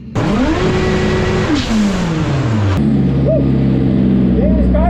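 A race car engine revs up loudly nearby, climbs and then falls away through gear changes before settling into a rough, steady idle.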